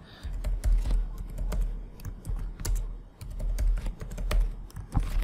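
Rapid typing on a computer keyboard while entering an IP address, port number and login credentials, a steady run of close, crisp key clicks with no talk.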